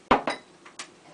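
A utensil clinks against a metal cooking pot while stirring a cream and Italian cheese and herb sauce, with three or four sharp, close knocks spaced irregularly.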